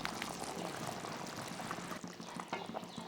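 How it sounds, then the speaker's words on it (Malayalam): Gravy bubbles at a steady boil in a pot, a faint continuous bubbling and popping heard up close, with no talk. "നന്നായിട്ട് തിളച്ച് വന്നിട്ടുണ്ട്"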